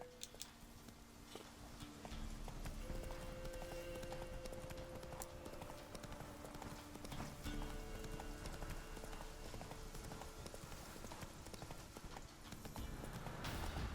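Hooves of Roach, the horse in The Witcher 3, clop in a steady rapid rhythm on the ground, continuous and fairly quiet under low game ambience and music.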